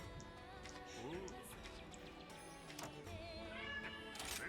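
Cat companion in the Monster Hunter video game meowing several times over layered game music and effects, moderately loud with bright repeated mews.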